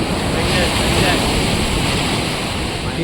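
Ocean surf rolls steadily onto a beach at Visakhapatnam, a loud continuous wash of breaking waves with wind buffeting the microphone throughout.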